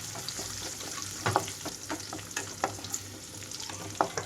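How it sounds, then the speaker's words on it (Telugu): Cut green chillies fry with vegetables in a pan for mushroom fried rice, a steady moderate sizzle broken by repeated spatula taps and scrapes at an irregular pace. "ఇవి వేగేటప్పుడే ఇందులోనే కట్ చేసి పెట్టుకున్న పచ్చిమిరపకాయలు వేస్తున్నాను"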